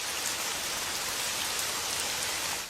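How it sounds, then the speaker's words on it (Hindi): A passing rain shower falls as a steady, dense hiss of rain on surfaces, loud and even throughout with no voices. "ये बिना मौसम की गुजरती हुई बारिश हमें क्या संकेत देती है?"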